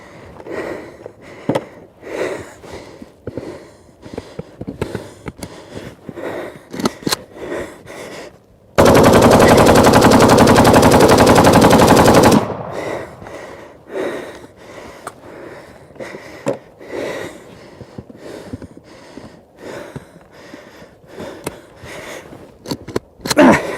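Kalashnikov rifle firing on full auto with rounds cooking off from heat, a dense sustained burst lasting a few seconds between scattered single cracks and clicks, loud and close.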